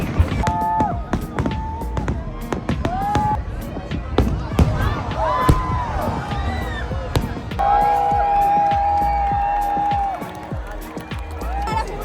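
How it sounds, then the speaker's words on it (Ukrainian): Canada Day fireworks at Niagara Falls crackle and thump in scattered distant pops over a large crowd's murmur, with people talking nearby throughout. "Стільки людей на Ніагарі дивляться святковий салют"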